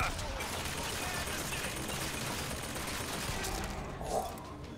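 A turret in the video game Bioshock Infinite fires a sustained, dense burst of rapid gunfire that holds at an even level throughout, with a brief mechanical flare near the end.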